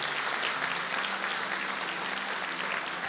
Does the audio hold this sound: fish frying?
no